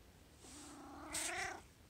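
A pet cat lets out a single drawn-out meow close to the microphone in a quiet indoor room, rising into a brighter cry before fading.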